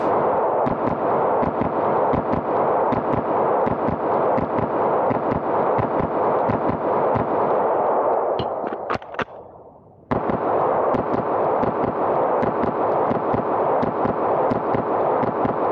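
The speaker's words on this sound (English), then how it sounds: "we're gonna go ahead and run a couple mags of this Wade's Armory 9mm through it" A 9mm pistol fires Wade's Armory 115-grain full metal jacket target ammo in rapid, loud, evenly spaced shots. The string breaks off for a moment, as if a magazine ran dry, then the fast shooting resumes.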